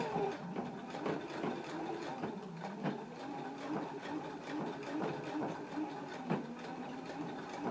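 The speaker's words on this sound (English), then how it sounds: "we can go to the sewing machine and stitch them right across the top of the fold" A home sewing machine stitches across the folded top of a pants carrier, a soft continuous mechanical hum with faint rhythmic ticks throughout.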